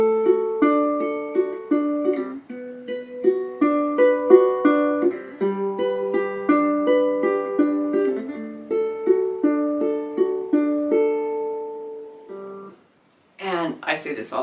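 Fingerpicked acoustic guitar plays an inside-outside pattern variation, steady, even plucked notes ringing clearly for about twelve seconds, then a brief pause before a voice begins speaking at the end.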